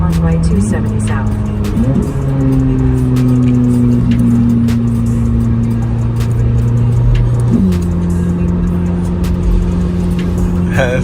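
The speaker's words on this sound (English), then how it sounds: "This car makes some pretty spectacular sounds." Chevrolet Corvette Z06 engine and exhaust drone steadily up close from inside the moving car, rising in pitch twice with shifts as a voice speaks over it.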